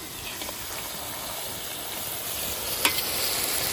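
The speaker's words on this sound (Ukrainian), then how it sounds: "Пожарили цибулю до золотого кольору." Steady frying sizzle of onions in a hot cauldron, a continuous crackling hiss with a couple of sharper pops, no voices.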